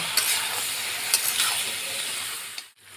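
Papaya, potato and soybean pieces are stirred with salt in a hot pan, a steady sizzle with a few scraping strokes of the spatula, close and continuous before a brief drop near the end.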